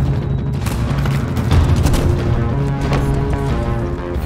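Gunfire rings out in a hotel corridor in a film sound effect, a dense rapid stream of shots and booms over a rumbling score, loud and continuous without speech.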